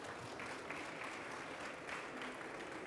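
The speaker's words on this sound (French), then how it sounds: "Je vous invite à applaudir nos intervenants." Faint, steady applause from an audience thanking the speakers after a presentation, a continuous soft patter of many hands heard from a distance.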